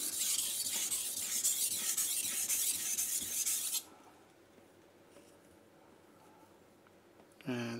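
A knife is sharpened on a King G-45 220 grit whetstone, making a close, steady gritty rasping as the blade is drawn back and forth for a few seconds, then quiet until a short scrape at the end.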